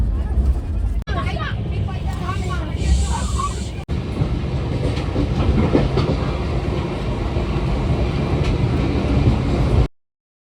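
A train runs along the rails at steady speed, a continuous loud rumble and clatter filling the whole stretch before it cuts off abruptly; a few brief voices surface over the noise.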